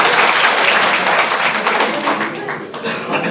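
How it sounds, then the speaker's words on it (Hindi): A crowd claps at a public gathering with a woman official in Chamba, a dense steady patter of many hands that stays loud, then tapers slightly before picking up again. "ताली बजाने का पता नहीं क्या शौक"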